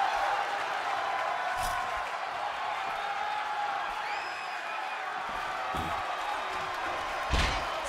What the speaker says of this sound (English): Slams him into the steel cage.